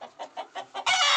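Desi gavran hens raised from a home incubator cluck in a steady rhythm of short notes, then one bird breaks into a loud, sustained squawk close by.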